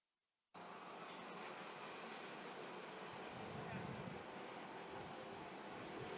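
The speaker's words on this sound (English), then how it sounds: "And now the train." A train sound effect starts suddenly after a brief silence and plays through a church sound system as a loud, continuous rumble and roar of rolling rail cars, swelling slightly as it goes on.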